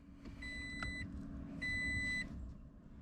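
A steady low mechanical hum with two short electronic beeps, followed by a faint whirring as a Toyota Tacoma truck's fuel system primes.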